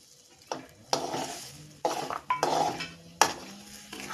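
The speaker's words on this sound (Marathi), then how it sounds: "आता वाटण परतून झालं, याच्यात मी वडे टाकून घेते" Dried lentil dumplings (vade) dropped into a pan of fried masala paste: a series of clattering thuds and spoon scrapes against the pan, with faint sizzling between the hits and no talk.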